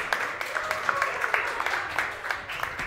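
A modest audience at a quiz-style event claps in applause, a scattered but steady run of hand claps at moderate level, fairly faint and slightly distant.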